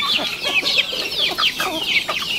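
Native backyard chickens cluck and chatter close by, a busy run of short overlapping clucks and squawks with no talking.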